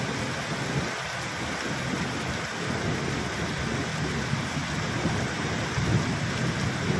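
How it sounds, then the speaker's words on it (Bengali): A thunderstorm after a long dry spell, heard from indoors: steady dense rain with low rolling thunder rumbling beneath it, continuous and moderately loud, with no talking. "বিদ্যুৎ চমকালো।"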